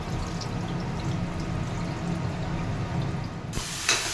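Water drains off rinsed flattened rice, a steady close rushing pour that stops abruptly near the end, followed by a brief clatter.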